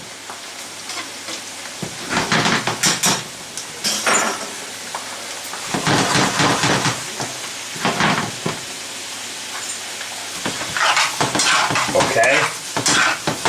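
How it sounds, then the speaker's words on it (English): Vegetables and potatoes sautéing in a pan for a veggie frittata, a loud steady sizzle with bursts of scraping and stirring as they are moved around, and a brief spoken word near the start. "I want these to saute up nicely. Just moving them around, getting them coated."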